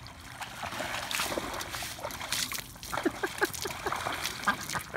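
Water splashes and sloshes at close range in irregular bursts, faint and uneven, with a run of small sharp splats in the second half.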